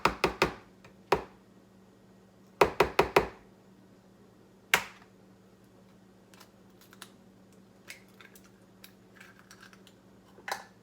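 Eggs cracked against a bowl for chocolate fudge brownie batter: a few clusters of sharp, close taps and cracks separated by pauses, then a quieter stretch with faint scattered clicks.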